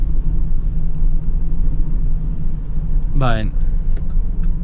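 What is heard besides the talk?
2026 Chevy Express V6 engine accelerating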